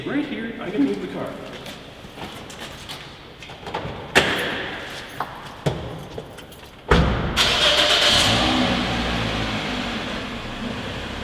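A parked car is started and moved off, with door thuds and clunks, then an engine catching and running with a steady rumble and hiss; someone talks over the early part.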